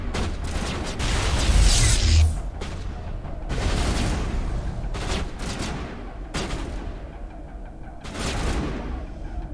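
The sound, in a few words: grenade explosion in video game Mass Effect Legendary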